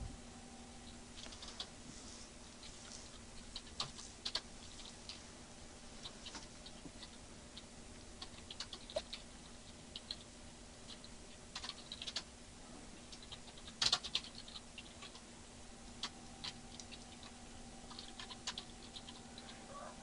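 Computer keyboard typing out a book title, soft irregular key clicks in short bursts over a steady low hum, quiet and close with no speech.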